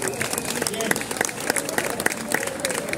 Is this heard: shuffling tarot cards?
no